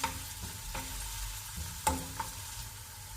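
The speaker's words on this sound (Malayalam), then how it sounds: "ഇഞ്ചി, പച്ചമുളക്, വെളുത്തുള്ളി ഇത്രയും നമ്മൾ ഫ്രൈ ചെയ്യാൻ ഇട്ടിരിക്കുകയാണ്." Ginger, green chillies and garlic frying in a pan, a steady soft sizzle with a few brief clinks of stirring on top, close and moderately quiet, no voices.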